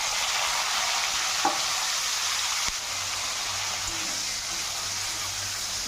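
Potatoes and greens stalks fry in a pan with five-spice seeds, a steady broadband sizzle throughout with one or two faint knocks of a utensil.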